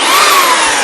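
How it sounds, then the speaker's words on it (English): A belt sander fitted with an 80 grit sanding disc grinds a wooden cutting board piece, a loud, continuous close-up whine and rasp with no pause. "How to grind them down smooth, the way I do it, just a belt sander."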